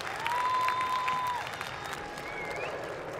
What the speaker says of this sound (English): give your families a round of applause